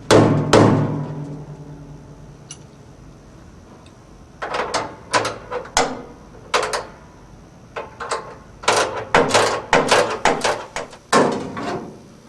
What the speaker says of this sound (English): As the shell band is being tightened, tap it periodically with a rubber hammer.